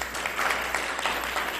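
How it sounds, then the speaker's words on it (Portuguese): A seated audience at a spiritist lecture gives a sustained round of clapping, an even crackling wash from many hands throughout. "Pode bater palmas, gente"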